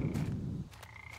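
A frog croaks in a horror video game, a short burst of low, buzzy pulses lasting under a second, fairly close and alone against a faint ambient backdrop.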